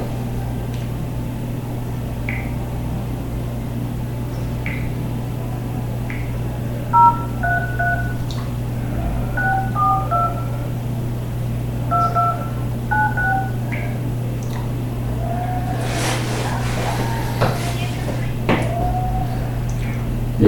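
Telephone keypad tones beep through a call to a property office: clusters of short dialing beeps, then a ringback tone, heard over a steady low background hum.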